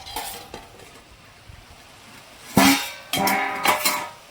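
A lid is lifted off a pan of cooked vegetables with coconut, giving a sharp metallic clatter followed by a short rush of steam and sizzle, then a second clink and more sizzling up close with no one talking.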